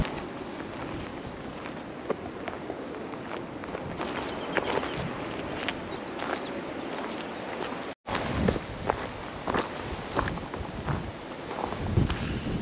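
Steady wind buffets the microphone at a coastal overlook on the Point Buchon Trail, Los Osos, California, a constant rushing roar with occasional gusts and faint footsteps, broken briefly by a moment of near silence.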